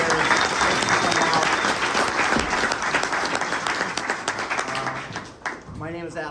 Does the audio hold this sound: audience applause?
yes